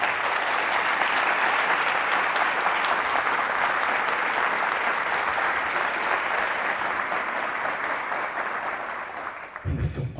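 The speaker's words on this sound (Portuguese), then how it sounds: "Você pode aplaudir a ele por isso?" A large audience applauds during a sermon, a broad, continuous roar of clapping held at steady loudness for about nine seconds before it drops away and talk resumes.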